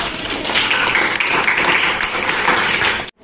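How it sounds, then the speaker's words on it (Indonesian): Dense, steady applause from a class of children fills the classroom without letup for about three seconds, then cuts off sharply. "bagus sekali, kita berikan tepuk tangan"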